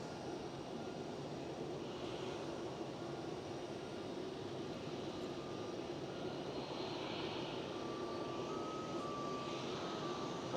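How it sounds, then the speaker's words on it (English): Steady, loud roar of an Icelandair airliner on approach to land at Schiphol Airport in Amsterdam, a broad engine drone that holds for the whole stretch with a faint whine rising near the end. "The Iceland Air will probably land at center runway."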